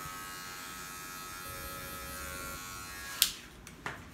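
Electric hair clipper cutting hair for a fade at a barbershop workshop, set to zero with the lever raised, a steady close buzz running throughout with a couple of sharp clicks near the end.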